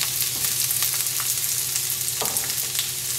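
Coarsely chopped onions fry in extra virgin olive oil in a pan over medium heat, giving a steady, close crackling sizzle with a few soft stirring scrapes and no talk.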